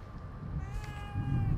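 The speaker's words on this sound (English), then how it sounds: "A cat." A cat meows once in the horror game The Evil Within 2, a drawn-out tonal cry heard moderately close over low, rumbling ambient game sound.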